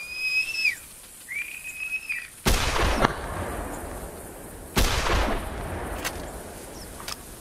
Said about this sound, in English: I forgot how to whistle in this game